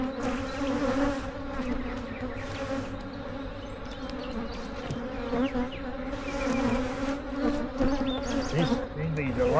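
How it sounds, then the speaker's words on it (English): Agitated honeybees swarm around an open beehive during an inspection, a thick, loud, unbroken buzzing hum close by, with faint talk underneath. "These bees are a lot more aggressive than, well, they're not sure what that is."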